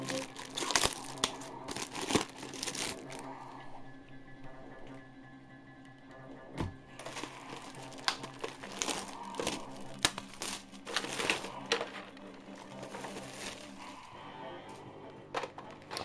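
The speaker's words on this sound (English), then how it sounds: "I'll go ahead and start unwrapping it for us" A Sega Saturn console is unwrapped from its packaging, with crinkling and crumpling of plastic and paper. Sharp rustles and crunches come in irregular bursts, close up over about sixteen seconds.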